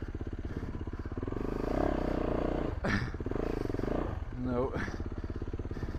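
A Yamaha YZ450F dirt bike on a rainy, slippery surface, its engine chugging steadily with a few revs and mechanical clatter while a rider speaks briefly nearby.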